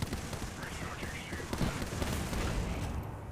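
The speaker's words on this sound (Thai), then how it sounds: "มันยิงกันอยู่อ่ะ" Apex Legends gunfire rattles in rapid distant bursts under a steady background din, with faint talking mixed in.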